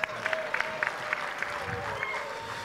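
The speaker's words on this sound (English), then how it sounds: "A big clap for that." Audience applause at a university ceremony, a moderate patter of clapping that carries on under a voice speaking over a hall sound system.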